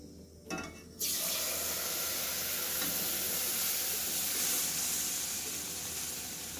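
Semolina halwa mixture in a hot pan hisses and spatters loudly and continuously right after water is poured in, a dense steady sizzle that begins abruptly and holds for several seconds.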